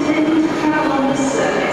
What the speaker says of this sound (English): Euston Station.